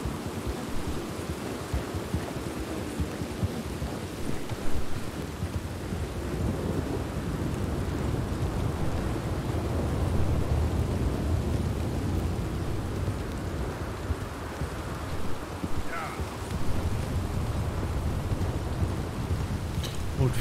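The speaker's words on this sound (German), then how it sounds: "Und 24 Stunden am Tag regnet." Steady rain and deep rolling thunder fill a stormy scene in the video game Red Dead Redemption 2, a continuous low rumble under the hiss of rainfall with no talk.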